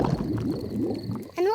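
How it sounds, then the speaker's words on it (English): Daddy Pig's cartoon tummy rumbles, a low gurgling, burbling growl that churns for over a second before a sharp rising squeak ends it, close and fairly soft. "My tummy rumbling is one of the best sounds of nature."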